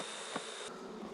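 Honeybees buzz around a beehive bottom board, a short close drone with one brief louder pass as a bee flies near.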